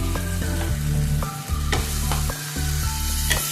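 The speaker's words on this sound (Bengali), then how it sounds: "এটাকে ভালো করে কষে নিই যতক্ষণ না গন্ধটা চলে যায় কাঁচা গন্ধটা" Ginger-garlic paste water sizzles loudly in hot oil while being sautéed for chili fish, a close, continuous frying hiss broken by rhythmic clanks and scrapes of a spatula against the pan.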